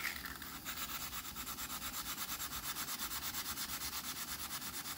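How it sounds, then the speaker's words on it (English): Rapid, even back-and-forth scratching of sandpaper rubbing a carbon fiber flute, a steady rhythmic rasp repeating many times, close and fairly quiet. "Sandpaper does pretty good."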